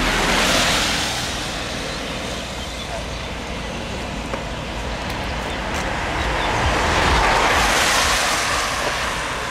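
Sea waves wash steadily along a coastline at a wedding outing while wind buffets the microphone, a broad continuous roar that swells near the start and again toward the end.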